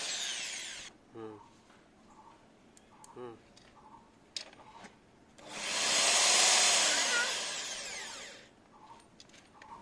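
A Cheston 13mm rotary impact drill drilling a hole into a metal plate: short whirring bursts with intermittent ticking, then a longer loud sustained whine, with quiet gaps and someone talking nearby.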